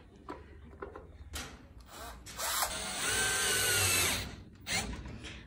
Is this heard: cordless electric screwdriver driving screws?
yes